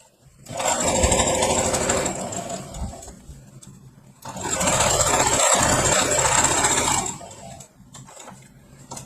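Mismatched fabric scraps are joined on a sewing machine, its motor whirring loudly and steadily in two long runs with a short gap and light clatter between them.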